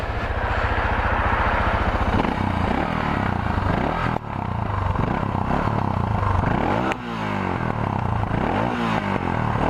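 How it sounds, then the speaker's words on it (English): A motorcycle engine with an F24 FOA exhaust idles with a rough, thumping exhaust note, then revs up and down repeatedly, loud and close throughout. "let's hear the exhaust"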